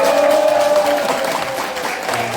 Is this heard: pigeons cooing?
no